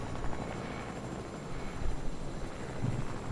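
Helicopter in the video game Fortnite flying with a steady rotor drone and engine hum, moderately loud and continuous with no talk.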